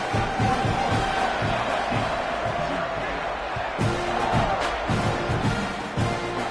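A home crowd cheers at an LSU football game, a broad steady roar with occasional swells, while a commentator talks over it.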